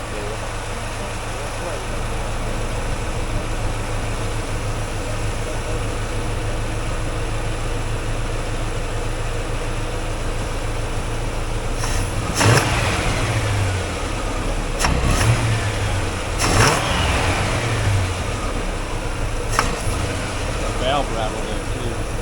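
A Chevy 283 V8 with its ignition timing off runs with a steady mid-pitched idle and a light valve rattle, close by, with a few sharp blips and knocks toward the end and some talk over it.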